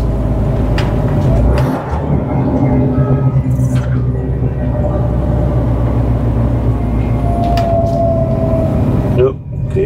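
A car eases over a kerb at a traffic light, its engine rumbling steadily while a couple of dull thumps mark the bumps. Voices talk over the vehicle noise.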